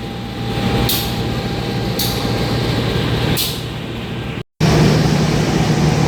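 Bangunkarta train locomotive being coupled to its carriages at the station, with a steady low engine rumble and idling hum underneath a few sharp metallic bangs and hisses spaced roughly a second apart.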